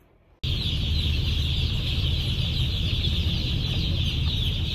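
Dense, continuous high-pitched peeping and clucking from many chicks close by in a large brooder, after a brief quiet start.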